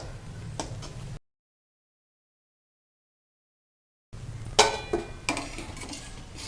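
Metal lid set onto a cooking pot while making methi phool makhana curry in a kitchen, a few light clinks and taps up close, broken by a stretch of silence.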